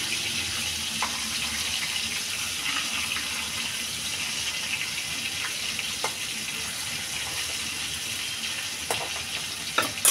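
Hilsa fish fries in a pan with a steady, close sizzling hiss and scattered sharp crackles and pops, heard alone at an even loudness.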